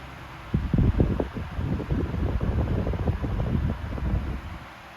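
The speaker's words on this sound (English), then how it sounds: "pop the oscillation and turn it on high. Starts up right away." A 1970s Super 16-inch oscillating fan starts up on high, its motor and blades producing a loud, close, steady whooshing rush with a fluttering, buffeting texture that holds throughout.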